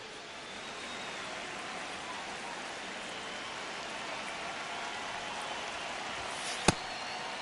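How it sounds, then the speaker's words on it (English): Steady hiss of rain falls in a baseball video game, a constant wash of fine droplets over several seconds with one brief sharp click near the end and no voices. "This rain is not letting up."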